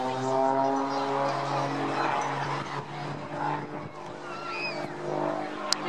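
An S2S aerobatic aircraft, purpose-built in the 1960s, flies at a seaside airshow, its engine a moderately distant, steady droning hum that rises and falls under faint crowd and wind noise.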